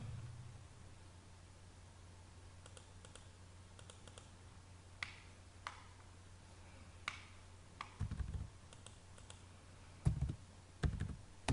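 Keys click on a computer keyboard while commands are entered in Civil 3D software, sparse scattered taps over a steady low hum and hiss, growing into quicker, louder bursts toward the end.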